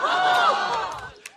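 A live talk-show audience in a theatre roars with loud cheering and whoops that swell and then fade over about a second, ending in a single clap.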